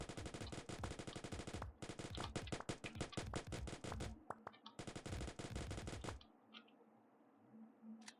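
Rapid submachine gun fire rattles loudly in the mining game Mining Survivors, two SMGs firing in dense continuous bursts with a brief gap, then cutting off into quiet game ambience near the end.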